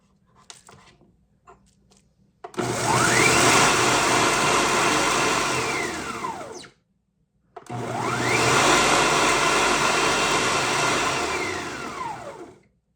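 Blender running in two long bursts of roughly four seconds each, grinding dried greens into a fine powder, loud and steady with a brief pause between runs and light clatter before starting.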